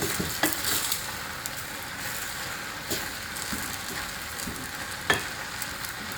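Seasoned food sizzles steadily in a frying pan while being stirred, with occasional scraping clinks of the utensil over the constant frying hiss.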